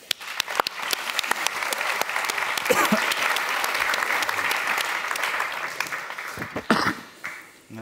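A seated audience at a Dutch literary event gives warm applause for a newspaper editor and art critic, dense clapping that swells and fades, with a cough or two and a brief voice near the end.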